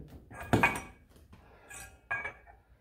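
Heated clutch gear dropping into a motorcycle clutch basket, a close metallic clunk followed by a couple of lighter clinks as the metal parts settle together.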